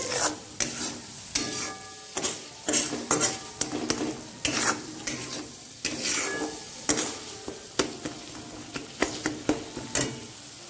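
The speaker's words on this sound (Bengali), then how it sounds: "তো মাছগুলো এখন ভেজে নিচ্ছি, ভেজে নিয়ে ঝোল করে ফেলবো" Fish frying in hot oil in a wok for a fish curry, with repeated spatula stirs and scrapes cutting through a steady background sizzle, close and fairly loud, no talking.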